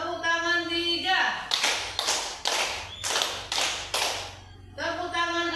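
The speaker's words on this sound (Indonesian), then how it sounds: "Tepuk tangan 3." A class claps hands together in a set pattern, a run of about seven sharp claps in two groups, bracketed by a voice talking before and after.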